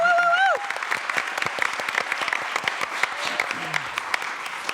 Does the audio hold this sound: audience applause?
yes